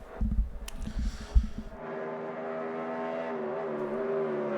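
A GT1 race car in a racing video game passes trackside at Spielberg, its engine note climbing into a sustained, steady high whine after a few low thumps at the start, with no talk over it.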